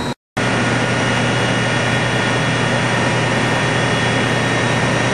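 A landfill gas generator engine burning methane at a power plant runs as a loud, steady, dense roar with a constant low drone, briefly cutting out at the very start and then continuing unbroken.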